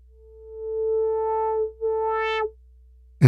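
A Moog Mother-32 synthesizer plays a clean, buzzy tone that swells in, briefly cuts out, then returns with a rising sweep before stopping. A short click follows at the end, and no one speaks.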